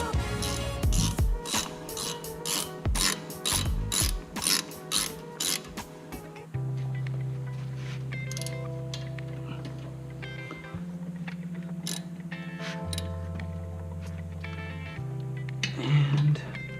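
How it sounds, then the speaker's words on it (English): A ratchet tightens a 14mm bolt on a Mazda CX-9 rear brake caliper, a run of rapid clicking pawl strokes up close, followed by a lower steady mechanical whir. "Tighten this back up with the 14mm."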